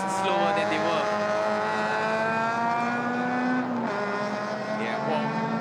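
Race car engine droning steadily at high revs during a wet-track endurance race, loud and continuous with a rising whine near the middle, while commentators talk over it.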